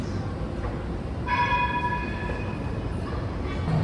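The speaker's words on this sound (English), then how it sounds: "Oh, here are the trams, the other trams." Trams rolling through Rogier premetro station in Brussels, a loud continuous rumble of wheels on rails in an echoing underground hall, with a high squealing tone and brief hum as a car passes close by.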